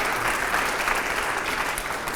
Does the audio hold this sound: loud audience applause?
yes